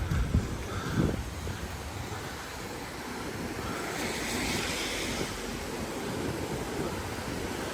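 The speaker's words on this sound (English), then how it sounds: "I think that sounds like a weir." Water rushing over a weir in Canterbury, Kent roars continuously at moderate distance, a broad even wash of sound with a few faint bumps near the start.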